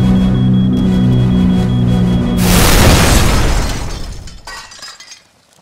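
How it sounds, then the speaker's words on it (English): Helicopter crashing into a landing: a steady rotor and engine drone cuts into a loud boom with shattering glass and breaking debris, then a rumbling fade to silence. "I crashed your chopper."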